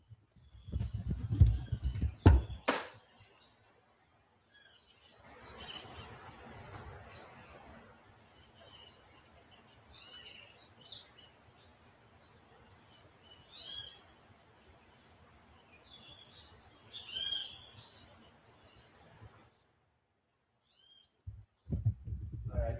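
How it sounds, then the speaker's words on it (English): Recorded bird chirps and calls played over a futures trading livestream: faint, scattered tweets repeating over steady background hiss, framed by louder thumps at the start and end. "I'll hook you guys up with some bird sounds for my way out here"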